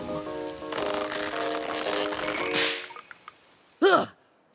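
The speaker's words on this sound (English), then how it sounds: "Ah, it is raining." Cartoon rainfall makes a steady, dense hiss for about two and a half seconds, with tonal background music underneath. It then fades out and is followed by a short swooping effect.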